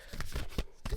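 Oracle card deck being shuffled by hand, a few quick papery riffles and slaps close by, quiet and with no talk.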